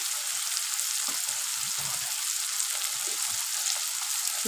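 Ground spices, including chili powder, sizzle in hot oil while being stirred for a Bengali parshe fish curry. The frying hiss is steady and close, with soft scraping of the stirring under it and no talking.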